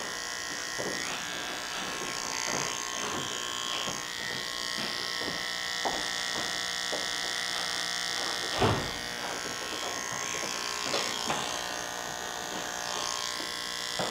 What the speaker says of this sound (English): I'm just going to work with the T-trimmer up, follow his hairline